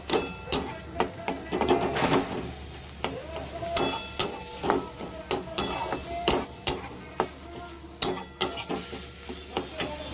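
A utensil scrapes and taps against a pan while stirring a vegetarian curry of potato, pointed gourd and pumpkin, giving irregular sharp knocks and clicks at a close, steady pace.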